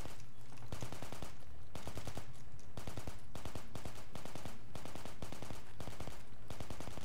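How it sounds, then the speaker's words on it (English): Sustained bursts of automatic gunfire from the Project Reality video game, a rapid rhythmic chatter of machine-gun fire that stops and starts in repeated volleys with short gaps between them. "Why are you guys shooting each other in there?"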